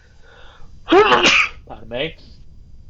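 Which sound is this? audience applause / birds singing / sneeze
sneeze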